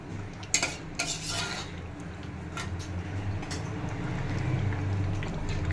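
Chicken curry of poultry meat being stir-fried in a pan, a utensil scraping and clinking against the metal twice near the start, then a steady low frying sizzle continuing throughout with no talk.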